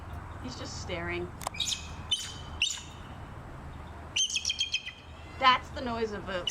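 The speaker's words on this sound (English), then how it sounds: "That's the noise of a bald eagle." High, chittering bald eagle call: bursts of bright, rapid chirps and squeals, close and fairly loud, with short pauses between phrases.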